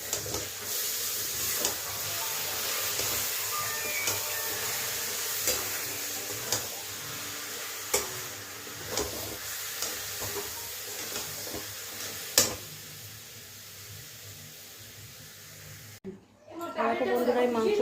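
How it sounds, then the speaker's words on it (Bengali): Meat curry with onion, garlic, ginger and green chilli paste cooks in a pot with a steady bubbling, sizzling hiss, punctuated by repeated spoon taps and scrapes, while a person talks over it before a sudden cut to louder sound. "মাংসটা এবার ফুটছে মাংসটা দেখো"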